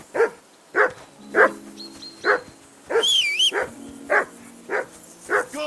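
A dog in Kingdom Come: Deliverance 2 barks in a steady rhythm, roughly nine sharp close barks, with a short high whimpering whine breaking in midway.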